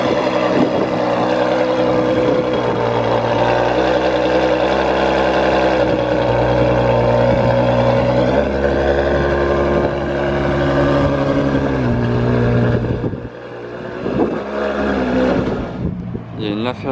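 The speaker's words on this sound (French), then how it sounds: "Et là, il y a la GTO qui bouge. Elle est en cold start-up." Ferrari GTO engine idling steadily after a cold start, a loud continuous low rumble that holds for most of the stretch, dips briefly, then resumes, with voices talking over it outdoors in Monaco.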